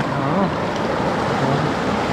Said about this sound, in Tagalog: sobrang ganda ng agos ng tubig